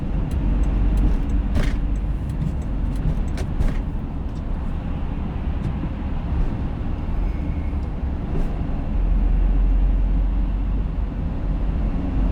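A big vehicle drives through early-morning traffic, its low engine rumble steady and close throughout, with road noise and a few brief knocks and clicks above it.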